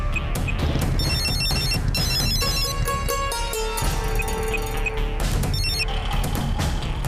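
A telephone rings in repeated bursts amid a busy, loud music-and-effects bed, the trill recurring several times across the clip with no talk over it.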